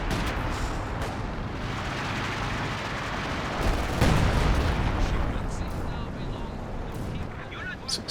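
Howitzer artillery in the video game Company of Heroes 2, dense booming barrage with a heavier blast near the middle, rolling rumble and crackling battle noise throughout, a voice talking intermittently over it.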